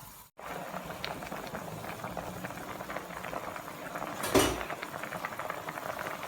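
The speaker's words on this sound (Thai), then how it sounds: "รอให้น้ำเดือดปลาสุก" Thai fish curry with pickled bamboo shoots bubbling steadily in a pot, a continuous close simmering rumble with small pops and a brief louder clatter near the end, no voices.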